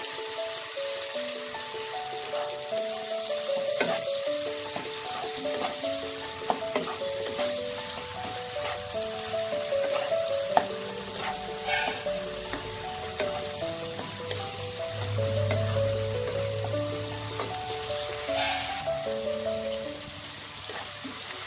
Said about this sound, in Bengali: দিয়ে টমেটোটা নরম হওয়া অবধি আমি এটাকে ভেজে নেব